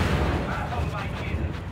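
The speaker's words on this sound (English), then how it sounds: "Manticore throwing down some explosions." Manticore artillery shells from the Imperial Guard explode in Dawn of War 2 battle gameplay, a dense rumbling wash of blasts and booms that fills the whole moment.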